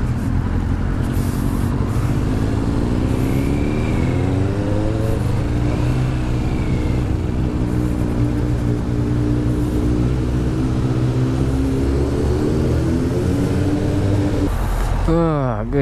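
Sport motorcycles rumble and rev at a bike night, engine tones rising and falling steadily through the whole stretch, with a sharp rising rev near the end and crowd chatter mixed in underneath.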